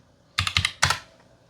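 Someone types on a computer keyboard at close range in two quick bursts of crisp key clicks, with a short pause between them, against a quiet background.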